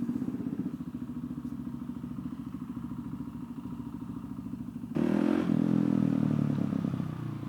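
A motorcycle engine idles with a rapid throbbing pulse, then revs up sharply and louder about two-thirds through, close by.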